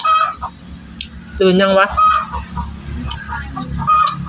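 Domestic chickens on a Thai farmstead, with a rooster among them, clucking loudly in bursts close by, one sharp squawking burst in the middle, while people talk casually over and around the birds.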